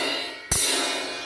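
A gong or cymbal struck once, a sharp close crash that rings briefly and then fades.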